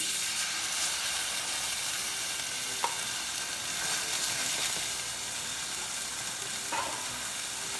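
Tomatoes and white wine sauteing in a pan give off a steady, close sizzle with dense hiss throughout, plus a couple of brief stirring clicks.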